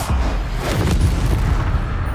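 Stupefy spell cast in Hogwarts Legacy, a burst of booming, crackling magic impacts filling the whole short moment, loud and close, with no other voices.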